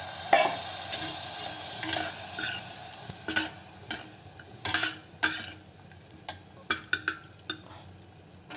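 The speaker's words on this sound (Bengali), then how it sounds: "তো এটা হালকা হালকা ভাজা হোক, টমেটোটা একটু নরম হবে, মশলাটা একটু ভাজা হবে" Spices and tomato fry in a pan as a utensil stirs them, with soft steady sizzling under a run of sharp scraping clinks that come in irregular bursts.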